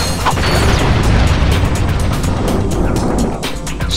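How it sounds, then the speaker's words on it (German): A ship explodes in the game Ratchet & Clank as a loud, sustained, booming roar with rumbling debris and scattered pops that tails off slightly toward the end. "Das Schiff explodiert."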